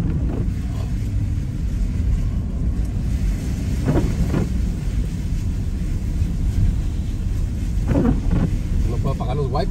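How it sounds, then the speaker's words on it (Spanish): Rain hits a car windshield on a cold day while the wipers sweep across it about every four seconds, over a steady, loud rumble of driving and wind. "No puedo apagar los wipers porque si apago los wipers se junta la lluvia"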